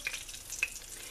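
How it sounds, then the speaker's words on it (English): Flour-dredged cod fillets frying gently in oil in a pan, a soft steady sizzle with a couple of brief sharper pops, quiet and close with no talking. "Now, I got the cod that has been dredged in just plain flour, and start frying it."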